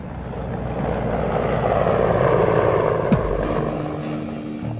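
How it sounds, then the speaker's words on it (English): A Hind military helicopter with twin-turbine 2200 horsepower engines runs loudly and steadily, its deep rotor thrum and turbine whine sustained close by with no voices. "The Hind is powered by twin-turbine 2200 horsepower engines."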